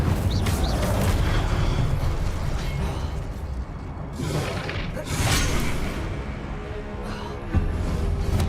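Incendio fire spell cast in Hogwarts Legacy, a dense roaring whoosh of flame with booming bursts and swelling blasts over continuous battle noise, loud and close throughout.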